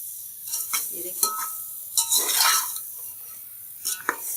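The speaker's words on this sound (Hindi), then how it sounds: "बस 1 मिनट तक इन आलूओं को भून के निकाल लेंगे" Potatoes sizzle in a pot while being stirred, with a steady hiss broken by scraping and a few light clinks of a utensil against the metal. The sounds are close and last several seconds, with no speech.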